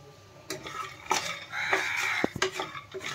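Masoor dal badi frying in mustard oil in a pan, stirred with a utensil: scraping strokes and clinks against the pan over a soft sizzle, close and fairly loud, with no talk.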